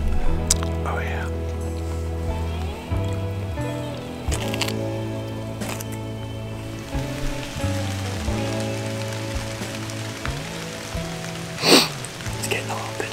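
Steady rain falling during an evening deer hunt in the Maine woods, a constant patter beneath louder tonal sounds and voices.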